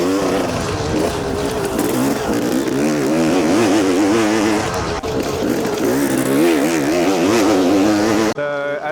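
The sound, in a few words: dirt bike accelerating through a sweeping corner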